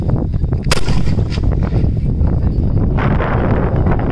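A loud Diwali firecracker blast cracks out close by, followed by sharp popping and crackling bursts, with another bang near the end.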